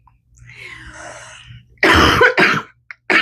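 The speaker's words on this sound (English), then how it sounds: "Excuse me, I'm still at the tail end of this cold, and cough is always the last thing to go." After a soft breath, a person with a lingering cold coughs twice, loud and close, followed by a brief throat noise.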